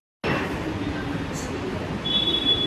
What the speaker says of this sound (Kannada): we are at the metro station.